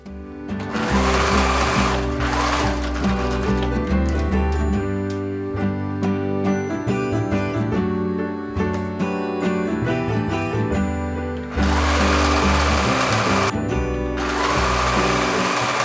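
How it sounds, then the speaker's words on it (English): Sewing machine stitching together pieces of a one-of-a-kind vest, running loud and close in long steady bursts with brief pauses and speed changes, alone without talk. "So all of the pieces are sewn together, overlocked, and then top stitched."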